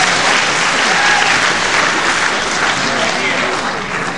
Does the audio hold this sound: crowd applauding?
yes